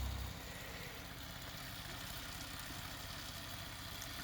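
A 3D-printed pulse motor running on 6 volts makes a faint, steady, continuous hum with an even low pulsing throughout.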